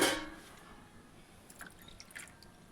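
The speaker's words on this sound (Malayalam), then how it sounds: "നമുക്ക് 1 ഗ്ലാസ് കൂടെ വെള്ളം ഒഴിക്കാം." A glass of water is poured into a pot of koova (arrowroot) payasam being cooked for Thiruvathira, giving a short splash at the start followed by a few faint, scattered drips.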